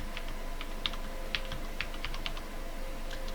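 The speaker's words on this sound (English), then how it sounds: "we type the IP address in" An IP address is typed on a USB keyboard during a Raspberry Pi OctoPrint setup, a run of light, quick keystrokes with a few slightly firmer presses, close and quiet, with no talking.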